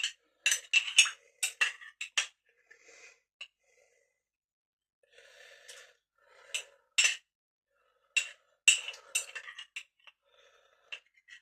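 Metal utensils clink and scrape against a pot while vegetable broth with bacon is stirred, giving bursts of close, sharp rattling with short pauses in between and no talking.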